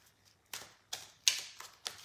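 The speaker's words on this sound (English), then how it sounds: "I'm going to shuffle yours and mix them up" A deck of cards is shuffled by hand during a live card reading, giving five quick riffling bursts at a steady pace, close and fairly quiet, with no talking.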